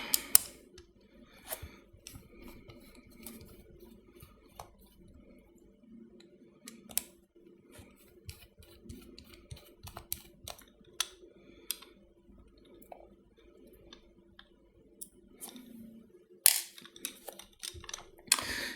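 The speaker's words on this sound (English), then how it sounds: "let's go ahead and remove these two screws right here so that we can get this sort of hatch off" Small screws are worked out of the frame of a Cybergun/WE Desert Eagle .50AE gas blowback airsoft pistol, giving faint, close, sparse metallic clicks and ticks against a quiet background.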